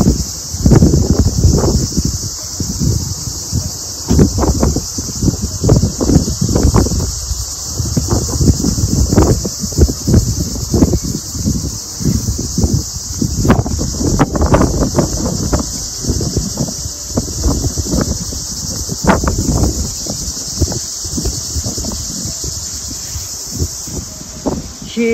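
Wind blows outdoors, buffeting the microphone in loud, gusty low rumbles that come and go throughout, with a steady high-pitched hiss underneath.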